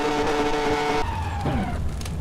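An F1 race car's engine blows in a 1996 racing sim at Barcelona: a loud, high, steady engine whine cuts out abruptly midway, leaving rough mechanical noise and a falling tone as the car slows.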